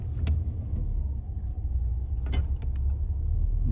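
A 1985 Chevrolet Caprice Classic's engine idles with a deep, steady rumble close by, while a few sharp clicks and clunks mark it being shifted into gear.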